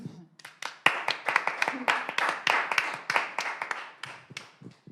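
Audience applause after a talk at a cross-innovation and social innovation event, a burst of many hands clapping, fairly close and steady, swelling and fading over several seconds.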